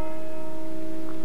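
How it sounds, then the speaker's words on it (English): St. Peter's Church bell rings with a steady, sustained metallic tone, loud and continuous over a short moment. "Hark, I hear the bell."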